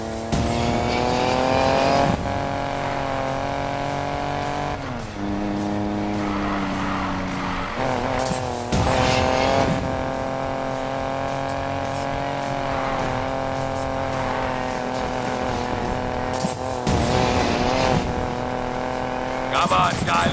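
Street race cars in Need for Speed Payback roar at high revs, engine pitch climbing and dropping through gear shifts, with a few tire squeals, loud and continuous, while voices talk at the start and in between.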